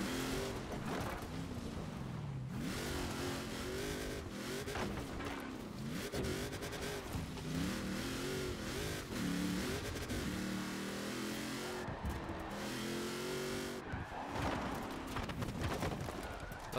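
A car engine in Forza Horizon 4 revs up and down through corners, its pitch rising and dropping repeatedly in a steady, close, continuous drone with brief gear-shift dips.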